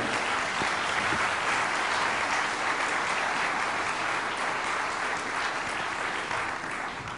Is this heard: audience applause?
yes